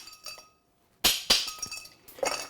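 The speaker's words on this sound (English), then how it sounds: "you wanna crack ice and throw your crack ice into the glass" A muddling spoon cracks ice for an Athol Brose cocktail, giving a few sharp glassy clinks and cracks in quick succession after a brief silence, close and fairly loud, with no talking.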